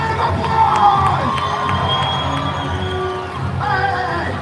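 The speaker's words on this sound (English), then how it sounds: "Round of applause!" Crowd at a Universal Studios Hollywood live show cheers and shouts loudly, with children's voices prominent, a sustained excited roar that swells and dips over several seconds.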